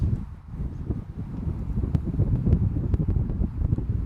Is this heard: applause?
no